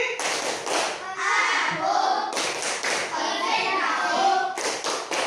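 A primary school class in grade 5 claps out a rhythmic chant pattern, children's voices chanting along between bursts of hand claps, in two loud groupings with a pause.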